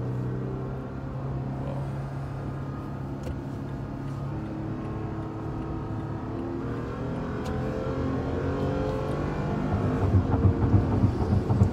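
A 2019 Toyota Tacoma TRD Off Road 4x4 pickup accelerating, heard from inside as a steady loud engine drone with road rumble that swells toward the end.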